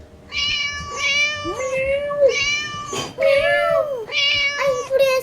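Loud, close cat meows come in a quick series of four or five in a game where a cat must be rescued from an angry teacher, some cries rising and falling in pitch, over faint background noise.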